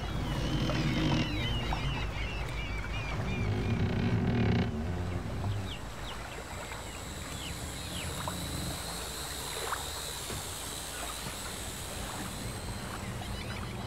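Seabird calls, squawking and crying in a quick scattered series over steady water and engine rumble from a boat, fairly loud at first and then thinning to faint repeated cries.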